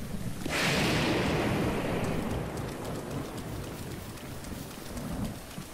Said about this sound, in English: I need the thunder to stop.